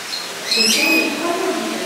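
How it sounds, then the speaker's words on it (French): Birds calling among the aviaries of a crocodile farm, a short bright chirping burst close by, then softer trailing calls against quiet background. "on est au milieu des oiseaux"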